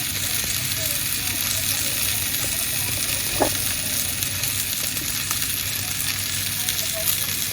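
Spicy pork sausages sizzling in a pan, a loud, steady, close frying hiss that carries on throughout, with one brief metallic clink partway through.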